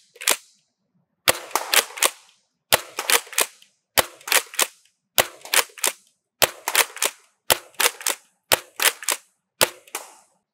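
Rapid bursts of sharp plastic pops from a NERF Pro Torrent blaster firing darts, about ten groups of three or four shots each spaced evenly across the clip, loud and close with no talk.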